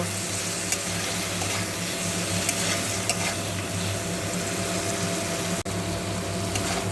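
Mustard paste ground with chili, sautéed with spices and mango in a pan for a sour fish-roe dish, giving a loud continuous sizzle with stirring and a steady hum underneath.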